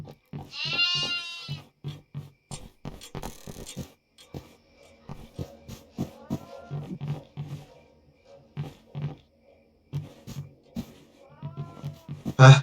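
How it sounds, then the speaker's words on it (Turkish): Two goats bleat in loud, repeated calls close by. Short animal cries come in bursts, with pauses between them. "İki tane keçimiz var."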